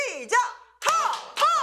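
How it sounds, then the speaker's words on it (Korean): A group laughs together with some clapping during a laughter therapy session for homeless people led by a hospital nurse: three loud, close bursts of voiced laughter separated by short pauses. "웃음 박수 준비."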